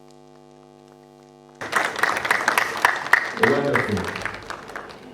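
An audience claps in a school venue in Kenya during a TikTok safety launch event. A steady mains hum comes first, then dense, lively applause breaks out and carries on to the end, with a voice speaking over it.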